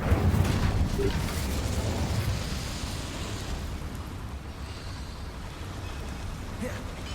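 The Bombarda explosion spell in the video game Hogwarts Legacy fires as a broad, rumbling blast that trails off into a long, noisy crackling wash, steady and fairly loud throughout.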